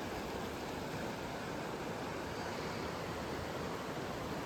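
Broad, steady rushing of a river flowing through dense mountain forest near Jiri on the way to Everest Base Camp, a continuous even roar with no breaks or voices.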